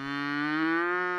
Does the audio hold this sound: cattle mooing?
yes